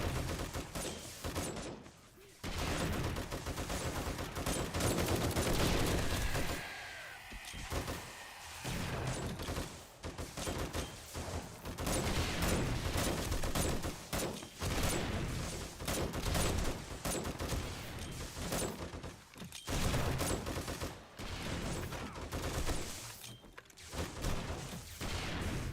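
Sustained gunfire in the survival game 7 Days to Die, dense rapid shots and bursts filling a long stretch, loud and close, with only brief gaps between volleys.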